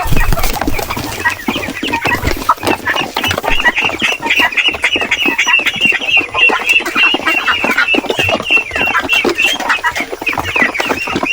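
A flock of chickens being fed layer feed on a small farm, clucking and squawking constantly in a busy, overlapping chorus close by, with ducks also kept nearby.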